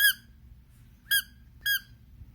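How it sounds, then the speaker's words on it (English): The squeaker inside an Overwatch Pachimari plush toy is squeezed three times, giving short, high, clear squeaks in an otherwise quiet room. "That's a pretty nice squeak."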